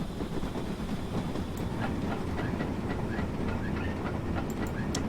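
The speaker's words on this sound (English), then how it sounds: "Got an AI train coming over it." An AI-driven train rolls past in the Train Simulator 2020 game on the Furness Line, a steady loud rumble of wheels on rail with faint clickety-clack and squeals throughout.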